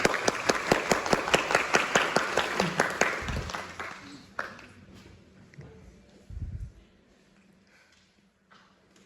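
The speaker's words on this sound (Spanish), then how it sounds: "Vamos a recibirlo por favor con un fuerte aplauso." Audience at a biocultural heritage talk in Colombia welcomes a speaker with sharp, evenly spaced clapping that fades out after about four seconds, leaving a quiet room with a few soft thumps and low murmurs.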